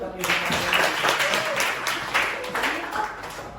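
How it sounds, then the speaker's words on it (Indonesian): Audience applause: a steady, dense patter of clapping that lasts a few seconds, with voices mixed in. "Aplaus dulu."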